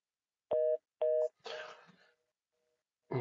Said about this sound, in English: I dialed 1-800.